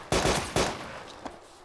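Gunfire in DayZ Epoch: two loud close shots land about half a second apart, each with a booming tail, followed by a fainter distant report, with no voices.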